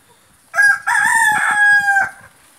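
A giant rooster with an injured leg gives a single loud, close crow that rises and is held for about a second and a half before breaking off, with no other sound around it.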